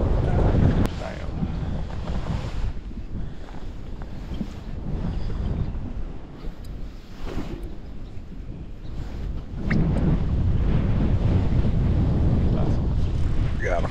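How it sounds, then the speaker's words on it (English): Strong wind buffets the microphone in a loud, continuous roar on an open, choppy stretch of water during a fishing outing, with brief excited voices breaking through. "the wind's blowing me over!"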